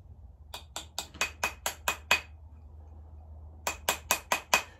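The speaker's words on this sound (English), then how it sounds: "I'm bending it on what's called a ring mandrel, and I'm also using what's called a jeweler's hammer, which is made out of rawhide." A rawhide jeweler's hammer taps a silver ring on a steel ring mandrel in crisp, evenly spaced strikes, a run of about seven followed by a pause and then five more, close and clear against a low hum.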